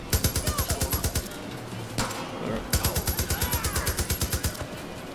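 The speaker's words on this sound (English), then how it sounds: "Why is there shooting?" Rapid automatic gunfire in Far Cry New Dawn rattles in fast, evenly spaced bursts, breaks off for a moment, then starts again just as loud.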